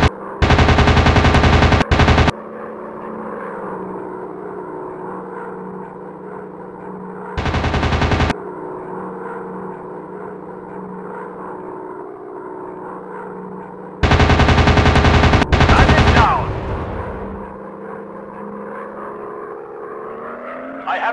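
Machine gun bursts from World War II fighter planes in a mobile dogfight game: three loud, sustained rattling volleys, each lasting a second or more, separated by steady engine drone that continues underneath throughout.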